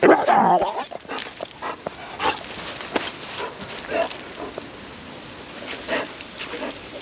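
A reactive female Doberman squeaks and whimpers in a loud opening burst, then keeps up faint intermittent whines and yips during handler training outdoors.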